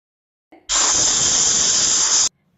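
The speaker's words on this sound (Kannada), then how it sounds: "ಕುಕ್ಕರಲ್ಲಿರುವಂಥ ಪ್ರೆಷರ್ ಎಲ್ಲ ಈ ರೀತಿ ರಿಲೀಸ್ ಮಾಡಿಬಿಟ್ಟು ಲಿಡ್ ಓಪನ್ ಮಾಡ್ಕೊಳ್ಬೇಕು" A pressure cooker vents its steam in one loud, sharp hiss that starts abruptly, holds steady for about a second and a half, then cuts off, with a faint click just before.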